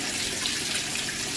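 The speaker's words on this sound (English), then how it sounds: "that it does in fact fill up with water like it's supposed to" Water rushing steadily into a Kenmore Elite washing machine set to a large load on a fast cycle, a continuous hissing gush up close with no other sounds.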